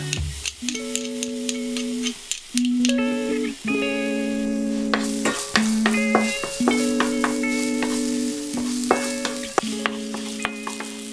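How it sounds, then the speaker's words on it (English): A crushed garlic clove fries in melted unsalted butter in a pan, a close sizzle with crisp crackles, under a sustained tonal hum that stops and restarts several times. "I crush a clove of garlic straight into the pan and fry that off"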